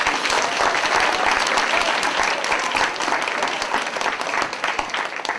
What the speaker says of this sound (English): One more big round of applause for Mr.